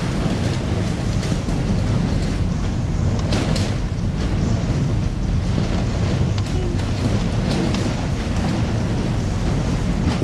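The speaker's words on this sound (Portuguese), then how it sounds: "O que parecia ser apenas um mau tempo de vento e chuva, de repente se transformou em uma verdadeira tormenta." Strong storm wind roars in sustained gusts during a sudden tempest of wind and rain, a loud, buffeting rush that swells and eases over ten seconds with no voices.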